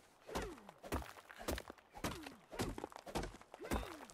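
A pickaxe strikes objects on the ground in ARK Survival Evolved, sending out about eight evenly spaced, close, heavy thunks with short groaning tails.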